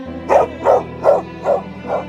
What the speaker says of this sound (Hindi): मुझे तो वो कुत्ता का बच्चा लग रहा है।